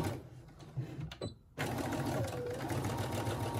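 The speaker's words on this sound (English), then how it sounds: "let me just backstitch this" A Brother SE1900 sewing machine backstitching fabric while sewing a hair scrunchie, a short burst of whirring stitching, a brief pause with a couple of clicks, then a sustained loud run of stitching to the end.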